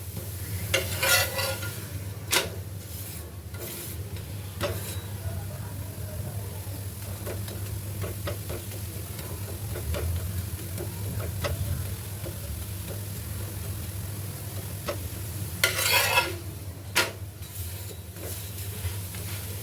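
Spinach paratha roasting on a griddle over a slow to medium gas flame gives a faint, steady low sizzle, broken by a few sharp scraping and tapping clicks as it is turned, with bursts of louder rustle near the start and end.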